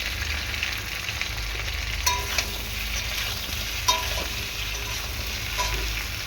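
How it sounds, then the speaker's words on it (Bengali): Green banana pieces fry in hot oil with a steady, close sizzle, broken by a few sharp clinks as they are stirred in the pan. "ভালো করে তেলের মধ্যে কাঁচকলার আলুটাকে রেখে কষিয়ে দেব"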